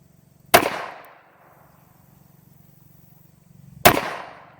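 Two sharp pistol shots from a Beretta Puma .32 fired outdoors at a 15-inch steel plate 25 yards away, spaced about three seconds apart, each a loud crack with a ringing tail that fades over a quiet background.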